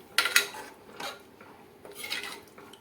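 A spoon stirs chickpea curry ingredients inside a metal pressure cooker, producing a few close scraping, clinking strokes in uneven bursts with no voices.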